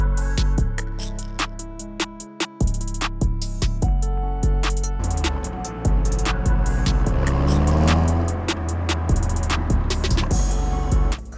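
A 1990s Fiat Tipo Sedicivalvole hot hatch driving on the road, its engine droning steadily from inside the cabin, with sharp clicks and knocks over the continuous motor hum.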